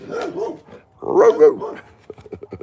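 A tailless Labrador barks and yips in short bursts, close and loud, with a person speaking briefly alongside.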